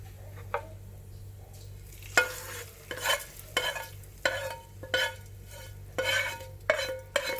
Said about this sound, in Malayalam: നമ്മൾക്ക് ഈ താളിച്ച് വെച്ചേക്കുന്നത് നമ്മളുടെ കറിയിലേക്ക് ഇട്ട് കൊടുക്കാം